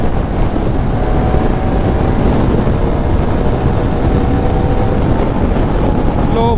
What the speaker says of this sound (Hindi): अब देखो 6th गियर पे उठा रहा हूँ।